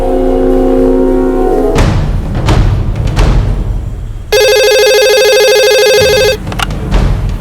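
A telephone rings loudly in a tense crime-drama scene, one long bright electronic ring burst after a few dull thuds and rustling movements, with no voices over it.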